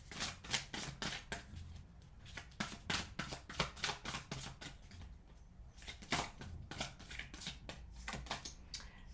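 Tarot cards shuffled for a reading, a steady run of quick, close riffling flicks and slaps repeating for several seconds with no voice over it.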